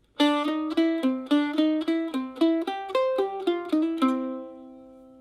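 Mandolin picks the second half of the A part of a tune, a quick, even string of bright plucked notes played solo and close, closing on a held note that rings and fades.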